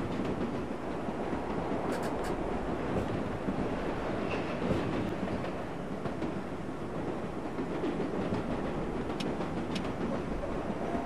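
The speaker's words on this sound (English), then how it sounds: "Watch that train go." A subway train in the game World of Subways 4 rolls past with a steady, low rumble and faint rail clatter, heard alone and fairly quiet throughout.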